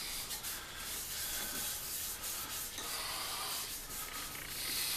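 Shellac being applied and sanded on a rescued wooden box gives a steady, soft rubbing and scratching, close and continuous with slight strokes and no talking.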